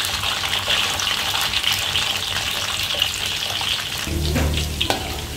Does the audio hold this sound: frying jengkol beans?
yes